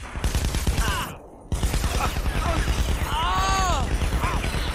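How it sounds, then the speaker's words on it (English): Rapid bursts of gunfire in the video game Saints Row 3, dense and loud with a brief pause, mixed with game effects and a voice. "Start shooting!"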